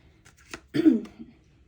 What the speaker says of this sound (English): I didn't mean to clear my throat here.